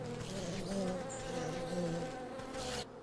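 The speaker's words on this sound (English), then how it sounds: "Bee, generally well-mannered, but can be quite hostile when irritated." Bees buzz steadily around an open hive in the video game Wytchwood, a close, continuous droning hum that cuts off abruptly near the end.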